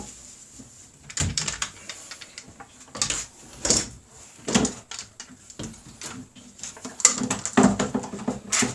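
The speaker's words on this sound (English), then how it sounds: "I'm going to open a drawer here." Drawers and fittings on a workshop lab bench being restored clatter and scrape in a series of irregular close knocks and slides, some louder bangs scattered across the stretch, no voices.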